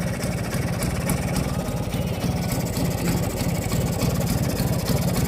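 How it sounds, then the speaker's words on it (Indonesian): A Vespa two-stroke scooter engine idles steadily after its carburetor is adjusted, a close, loud, even low putter with a rapid regular pulse throughout and no talk. "Udah cukup langsam kali ya. Udah langsam ya."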